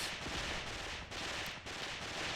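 Distant, muffled machine gun fire in the war video game Mius Front, a continuous low rumbling stream of bursts at quiet level with brief dips between volleys.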